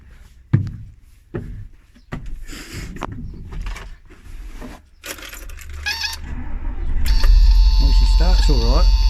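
An old car, nicknamed Mildred and suffering a failed clutch slave cylinder, is started: keys jangle and a few clunks, then the engine catches and settles into a loud, close, steady idle.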